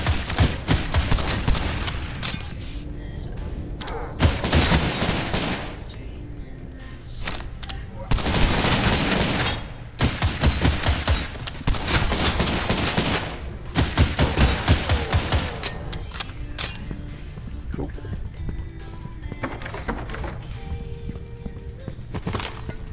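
An FG-42 rifle fires in the retro shooter Cultic, with loud, sharp shots in rapid bursts separated by short pauses over about twenty seconds, mixed with game effects and a few ringing tones.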